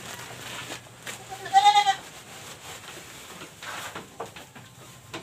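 A pet goat bleats once loudly and close, a wavering cry lasting about half a second, while being fed grass for its morning meal on a small farm; quieter rustling and faint farm sounds fill the rest.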